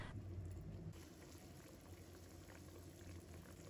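Water and sauce come to a rolling boil in a pot of tofu, with steady bubbling and churning that carries on evenly throughout, close and continuous.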